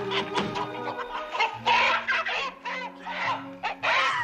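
Hens clucking in a henhouse on a ranch, a busy, agitated flock calling over one another in a steady stream of overlapping clucks and squawks, close and fairly loud.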